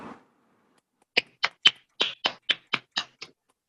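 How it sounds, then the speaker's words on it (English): Hand clapping for award nominees at a leadership award presentation, about nine sharp, separate claps in a quick uneven run, close and clear against near silence, after a brief bit of voice at the start. "Please join me with a resounding hand clap for our 6 nominees."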